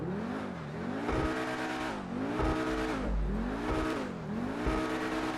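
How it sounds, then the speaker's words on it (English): Pegassi Zorrusso supercar engine in GTA 5 Online revving up and down in repeated waves, a loud, steady snarl rising and falling about four times with no talk over it. "let's jump in and see what the interior looks like and hear how the car sounds"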